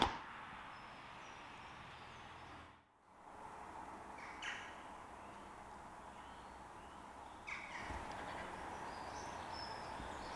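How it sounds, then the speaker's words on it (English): Steady broadband rumble of road traffic on Bank Street in Malvern Link fills the background, with a brief dip partway through and a couple of louder passing swells. "Apologies for the traffic noise"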